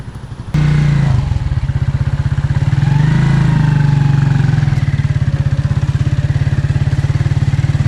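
A motorcycle rides along a boggy, muddy dirt track, its engine kicking in abruptly and then chugging loudly and steadily up close, with a faint rise in revs partway through.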